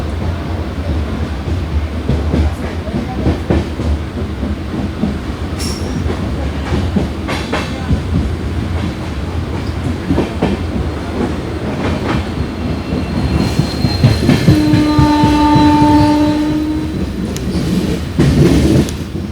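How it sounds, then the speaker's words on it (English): Indian express passenger train hauled by an Ernakulam-shed WDG4 diesel locomotive, heard from inside a coach: steady rumbling wheels and rhythmic clickety-clack on the rails, rising louder with a drawn-out squeal toward the end. "There was a Ernakulam WTG4 locomotive here."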